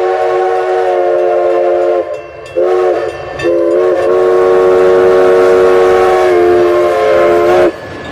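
A toy train plays a steady, loud horn sound that drones with stacked harmonic tones, dropping out briefly twice before resuming, with a faint rumble of rail noise underneath.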